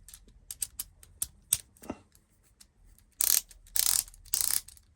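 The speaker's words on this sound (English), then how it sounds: "As I say, it's a small ratchet, guys." A small, stiff Parkside ratchet with a little socket fitted clicks in several sharp separate ticks, then three louder bursts of rapid ratcheting close by, with no talking.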